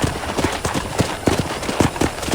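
Horse hooves clip-clop steadily in a ranch-set video game, a regular run of close, fairly loud hoofbeats over a busy ambient background.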